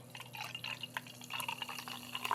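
Belgian-style ale pours and trickles from a bottle into a glass with small gurgles and drips, fairly quiet, over a low steady hum.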